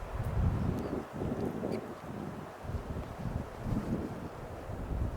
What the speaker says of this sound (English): You can hear the wind in here.